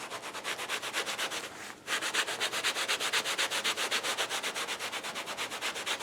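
A Wested Indiana Jones leather jacket is scrubbed to weather it, giving close, steady rhythmic rubbing strokes at about three per second, with one brief pause partway through and no talk.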